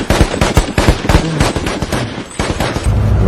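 Rapid gunfire in a tense film scene on a rooftop, where a sniper fires from more than a kilometre away: a dense burst of sharp, loud reports in quick succession for about three seconds.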